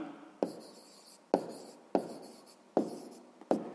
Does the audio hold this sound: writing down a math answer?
yes